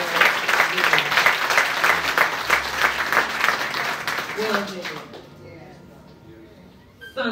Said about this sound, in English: Let's give a round of applause for the legacy.